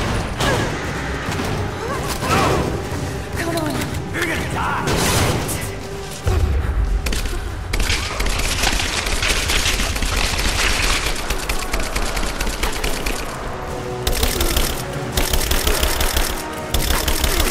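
An AK rifle firing in Rise of the Tomb Raider, heard as dense, continuous automatic fire mixed with booms and impacts. It stays loud and close throughout, with brief changes in intensity partway through.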